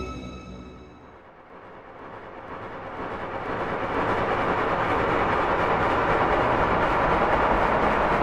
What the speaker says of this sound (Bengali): দীর্ঘ 6 ঘন্টা ট্রেনে চেপে পৌঁছালো বাদলগঞ্জ